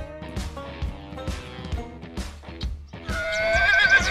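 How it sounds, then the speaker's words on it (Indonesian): A horse neighs and whinnies repeatedly in a toy-like animal truck scene, with hoof clip-clops mixed in, loud and close, ending in a long rising whinny. "Ada kuda."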